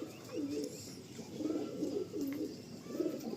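Several pigeons give low, throaty coos nearby, with about four separate rolling calls spaced at a steady rhythm against a quiet background.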